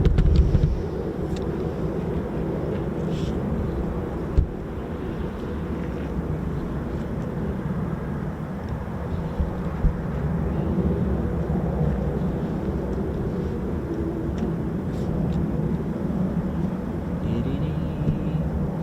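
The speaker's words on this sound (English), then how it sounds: "So we've had 6 F-35s and 2 F-15E Strike Eagles." F-35 and F-15E Strike Eagle fighter jets at RAF Lakenheath produce a sustained, loud low roar over an open airfield, with wind buffeting the microphone throughout.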